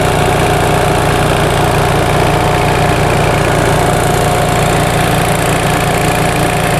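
A 1945 Onan generator engine runs loudly and steadily close by, a constant droning hum with a fast, even pulse and no pauses, alone with no voices.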